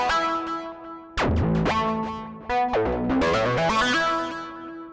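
A melodic techno synth patch with a sixteenth-note ping pong delay plays a bright, distorted melodic line whose repeating echoes trail off behind each note, loud and without talk.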